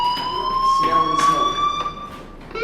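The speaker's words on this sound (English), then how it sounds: "Hey, do you hear that fire alarm?" Fire alarm ringing inside a school building in the video game Life Is Strange, a steady high electronic tone running throughout, fairly loud, with brief background noises.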